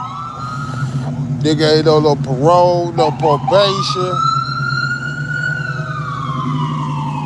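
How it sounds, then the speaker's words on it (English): An ambulance siren passes outside, its rising and falling wail steady and fairly loud beneath someone talking nearby throughout. "That's the ambulance."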